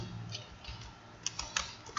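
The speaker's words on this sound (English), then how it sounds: "We type it again" Typing on a computer keyboard during programming work: soft, sparse key clicks, a few sharper taps near the end, faint and close with no talk.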